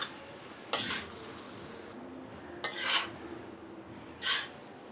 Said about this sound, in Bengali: এখন আমি এর সাথে দিয়ে দিব স্ক্র্যাম্বল করা ডিম। আবারও একটা ভালোভাবে নেড়ে নিব।